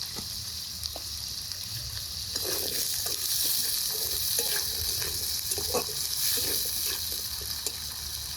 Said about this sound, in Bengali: আলুগুলো তেলের মধ্যে নাড়াচাড়া করে নিচ্ছি।